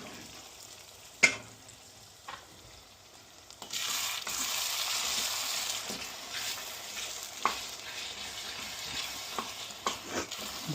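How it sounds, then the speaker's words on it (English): Pasta frying in oil in a pan is stirred, with a soft continuous sizzle broken by occasional sharp clinks and scrapes of the utensil against the pan. "Stir it around properly"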